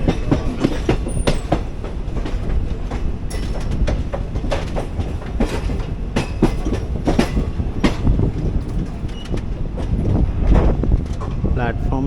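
The 12677 Ernakulam Intercity Express rolls into a yard on its run from KSR Bengaluru, loud and close, with rhythmic clickety-clack over rail joints and rushing wind throughout.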